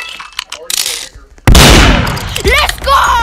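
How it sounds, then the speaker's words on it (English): Gunfire in the Roblox game Murder Mystery, a sudden loud burst with a sharp onset followed by a decaying crackle, with a player's voice shouting around it. "I'm actually shooting the gun at him."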